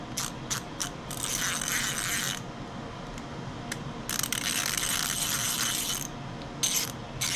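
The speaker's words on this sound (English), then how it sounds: "I've been using this wrench all day" Ratchet wrench cranking on an Ariens 42-inch riding mower, rapid metallic clicking in repeated bursts separated by short pauses, close and loud with no voices.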